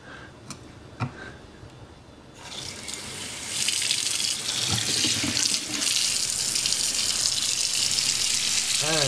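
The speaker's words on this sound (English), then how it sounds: "stick it in the sink, and run some water on it" Tap water runs into a sink over a Casio G'zone Type-S watch frozen in a block of ice, with a few knocks followed by a steady, loud gushing stream that continues to the end.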